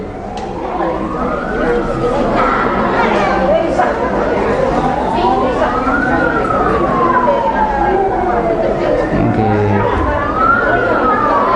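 An ambulance siren wails in slow rising and falling sweeps, loud and continuous, with crowd chatter and voices underneath.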